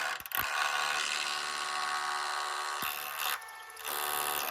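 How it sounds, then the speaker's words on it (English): A DeWalt SDS drill runs almost continuously at close range while fixing timber to a wall with plugs and 4-inch screws, with a few short pauses and changes in pitch. "Great DeWalt SDS there, just red plugs, fine, and some 4-inch screws."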